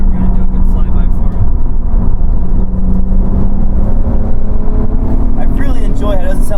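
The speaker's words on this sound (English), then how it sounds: "we're gonna do a good flyby" A Nissan 350Z roars past in a flyby, its steady engine note loud and close throughout with a slight rise toward the end, while people talk over it.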